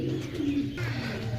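Pigeons being offered for sale coo and call close by in a short, steady stretch, with a brief higher chirp partway through and no talk over them.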